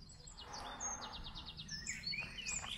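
Birds chirp and call in quick repeated trills at an animal sanctuary, faint and somewhat distant over a low steady background hum.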